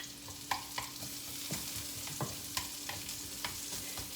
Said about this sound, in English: We're going to throw in the onions.